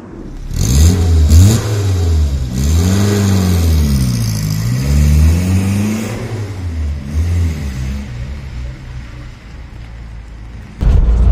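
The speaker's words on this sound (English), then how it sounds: "This is my first go at driving a standard Hillman Imp." A 1971 Hillman Imp Super engine revving while driving, near and loud, pitch climbing and falling through several gear changes before easing to a quieter cruise, with a sudden burst of noise right at the end.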